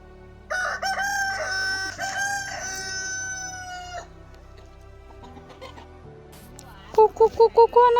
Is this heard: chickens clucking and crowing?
yes